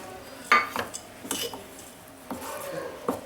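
Jaggery being stirred into a bread spread in a pan, with a spoon scraping and clinking against the metal in several distinct knocks and bursts, close by, over a faint background hum.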